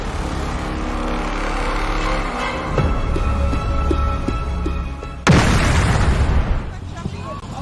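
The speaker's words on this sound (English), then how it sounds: "Today, LTTE terrorists launched a suicide bomb attack near the central bank in Colombo." Suicide bomb explosion near the central bank in Colombo, a sudden loud blast breaking in partway through, with a rumbling tail and earlier pops and traffic-like noise; a voice talks in the background.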